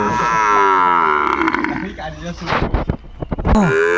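Sahiwal bull calves on a farm in Chuadanga low loudly and close by, several drawn-out moos overlapping, with people's voices and some wind noise around them.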